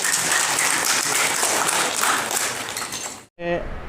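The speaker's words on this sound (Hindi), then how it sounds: "मंच पर आसीन सभी आदरणीय जनता है बहुत ही जोरदार ताली।" Loud, dense applause from a large audience at a political event in Arunachal Pradesh, sustained for about three seconds before breaking off abruptly, followed by a brief tonal sound.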